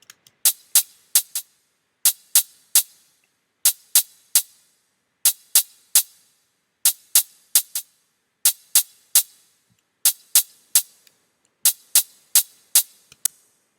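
A hi-hat track panned to the right ticks in steady repeating groups of bright, short hits, crisp and fairly quiet with brief gaps between phrases and no voices.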